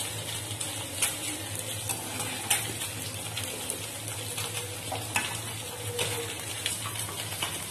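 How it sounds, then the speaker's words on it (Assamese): Taro stems with dried Bombay duck fish fry and get stirred in a pan, giving a steady close sizzle broken by regular scraping and clinking strokes of the spoon, with no talking. "এইখিনি ৰঙাকৈ ভজা হৈ গৈছে, বেছি ভজা নাই, বেছি টান কৰি দিয়া নাই ফ্ৰাই কৰি"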